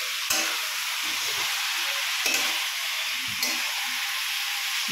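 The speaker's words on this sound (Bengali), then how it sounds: "খচ করে খুন্তি নাড়তে হয়।" Chicken frying in a pan gives off a steady sizzle and hiss, cut by three short scraping knocks as a spatula is dragged and stirred through the meat.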